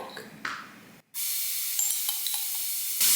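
Garlic hitting a hot pan, a soft rustle followed after a brief gap by a steady, bright sizzle that holds close and even, with a faint clink near the end.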